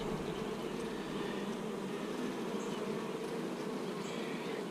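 Honey bees in a nuc hive make a dense, continuous buzz, close and steady throughout with no voices.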